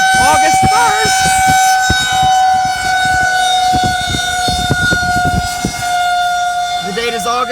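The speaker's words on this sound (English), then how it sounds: "the tornado siren is going off" A tornado warning siren wails loud and steady in Athens, Georgia during an August storm, its sustained tones dominating throughout while a voice talks underneath.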